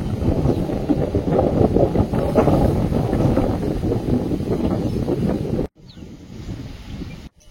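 Strong wind blasts across a flooded field, where the water ripples like a river, producing loud, continuous rushing noise close to the microphone. It drops off abruptly near the end, leaving a quieter gust.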